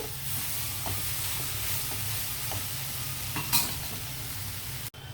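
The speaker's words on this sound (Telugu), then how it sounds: "ఒక్క 2 మినిట్స్ ఈ పొడులన్నీ కూరగాయలకి చికెన్కి పట్టేదాకా 2 మినిట్స్ అలాగా సిమ్లోనే ఆగనిద్దామండి" Chicken and vegetables coated in spice powders simmer and sizzle in a pan with a steady, even hiss, a few soft stirring clicks and a brief utensil knock; no one talks.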